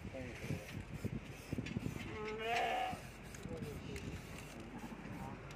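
A young lamb bleats near a livestock market where sheep and goats are sold, its wavering cries rising clearly over someone talking and busy animal-market chatter.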